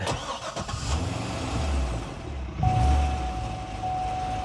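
A car engine fitted with a K&N cold air filter cranks and catches, then settles into a steady idle with a faint high tone, close and moderately loud, with no voices.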